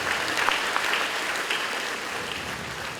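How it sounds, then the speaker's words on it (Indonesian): Audience applause at a high school graduation and farewell ceremony in Bekasi, a steady wash of many hands clapping, moderately distant and uniform for a few seconds. "mari kita beri tepukan yang sangat meriah buat anak-anak kita"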